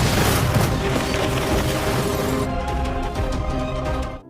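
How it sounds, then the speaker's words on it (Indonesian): A car explodes in a dramatic film scene, heard as a loud, dense roaring blast that fills the whole stretch and then settles into crackling debris before cutting off abruptly. "Namun lagi-lagi mobil meledak."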